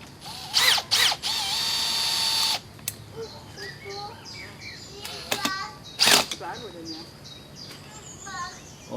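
A power drill drives small screws into a tree outdoors in a garden, giving a few short loud whirring bursts and one longer run, with children's voices and birdsong between.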